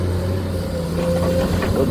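A Kubota excavator's engine runs steadily with a deep, loud drone at a dug site where dirt is loaded into a ten-wheel dump truck. The sound continues without a break and without voices.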